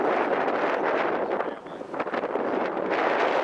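Steady wind buffets the microphone in a park with a loud, rough rumble that rises and falls in gusts, with no voices.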